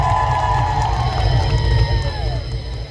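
A large crowd at a Tanzanian MP's constituency tour in Namtumbo cheers and claps steadily. The roar is loud and dense, with shouts and whoops rising out of it throughout.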